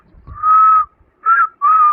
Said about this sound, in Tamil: நீ கேட்ட கேள்விக்கு அவரு விசில்ல பதில் சொல்லிட்டாரு.